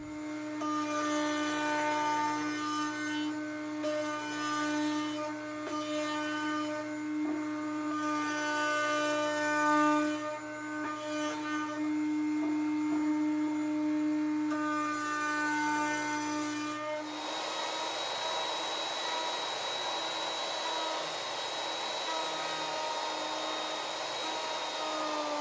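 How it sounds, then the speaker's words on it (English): A large wood router carves a scrap wood mancala board, its high steady whine running continuously for about seventeen seconds before the motor is switched off and winds down to a quieter hum. "I've got my, this is a big router. I've had this a long time."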